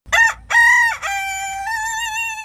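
An Ayam Cemani rooster crows loudly and close by, giving a few long, strained calls with brief breaks, the last call held out in a drawn, wavering tone.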